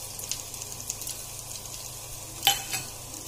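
Cumin seeds hitting preheated oil in a kadhai, a faint steady sizzle with light stirring clinks and one brief sharper crackle near the end, no talking.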